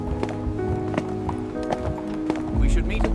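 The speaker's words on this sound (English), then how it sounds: "Horse-drawn freight wagons still rolled through the streets, their iron-rimmed wheels grinding against dirt roads." Horse-drawn freight wagons with iron-rimmed wheels on dirt streets of early-1870s Chicago: close, steady clip-clop of hooves with a low rolling rumble, under a narrating voice.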